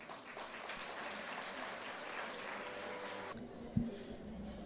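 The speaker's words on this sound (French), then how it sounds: "Sous vos acclamations, s'il vous plaît" An audience at a corporate ceremony applauds as a Deloitte executive is welcomed; the steady clapping runs for about three seconds, then cuts off abruptly, leaving a quieter room with a brief thump.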